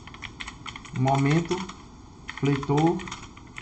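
Clicky typing on a computer keyboard, brief bursts of key taps spread through the clip, partly under a voice speaking in between.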